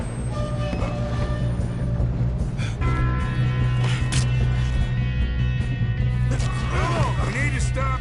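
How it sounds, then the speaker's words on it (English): A train runs along in the Red Dead Redemption 2 video game, a steady low rumble and clatter under periodic metallic clanks and grinding, with characters talking over it. "We need to stop this train."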